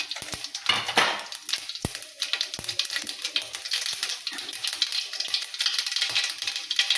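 Cumin and mustard seeds crackle and sizzle in hot oil, a busy, fizzy frying hiss broken by a few sharp clinks and taps of a utensil against the pan, fairly close and with no talking.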